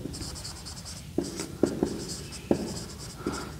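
Marker or chalk writing on a board during a maths lesson comes through as several short taps and scratchy strokes with small pauses between them, set against a quiet room hum.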